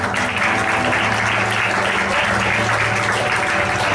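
A church congregation claps loudly and continuously, a dense unbroken roar of many hands over a low sustained musical hum.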